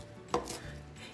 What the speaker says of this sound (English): I'm gonna go ahead and just kind of smash it all together and then just chop it.